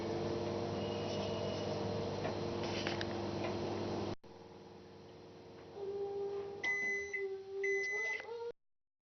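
A microwave oven runs at its highest power level with a steady droning hum, then a quieter stretch follows and a few sharp electronic beeps sound near the end.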